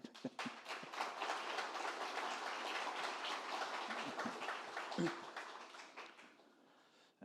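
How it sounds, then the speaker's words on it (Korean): Audience applause at a Korean Reformed preaching seminar, a quiet, sustained patter of many hands clapping from across the hall, fading toward the end. "박수 한번 쳐주십시오."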